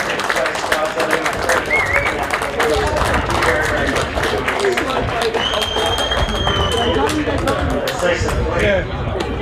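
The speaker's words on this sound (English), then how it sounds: "Big round of applause for Headspace, guys." Applause for Headspace at a sporting event, Tamworth Magpies versus Robb College, with scattered clapping and crowd cheering blended into loud chatter and someone talking near the microphone throughout.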